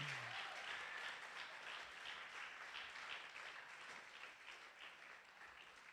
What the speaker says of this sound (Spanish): que le den un fuerte, pero fuerte aplauso al Señor